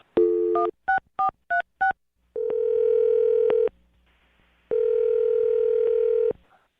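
Telephone number dialed on a phone line: a rapid series of five touch-tone beeps, followed by two long steady ringback tones separated by a pause, clear and loud with no talking.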